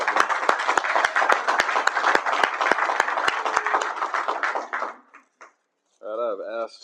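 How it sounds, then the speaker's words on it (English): An audience at a recovery meeting applauds, a dense round of clapping with a few sharp loud claps standing out, fading out after about five seconds before a voice begins speaking. "All right, one more round of applause"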